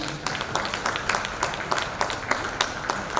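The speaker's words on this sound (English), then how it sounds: "Big round of applause, please." Audience applause at an education conference, a steady patter of many hands clapping at moderate distance, fairly soft and continuous throughout.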